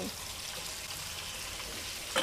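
Pieces of pork fry in hot oil in a pan, giving a quiet, steady crackling sizzle throughout, with a small sharp sound near the end and no talking.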